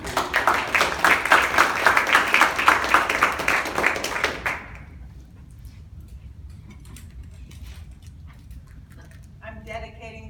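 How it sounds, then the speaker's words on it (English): Audience applause at a poets' open mic night at the Williams Center, a dense burst of many hands clapping for about four and a half seconds before it stops, leaving quiet room tone with a few small noises near the end. "So let's give a big round of applause for Susanna,"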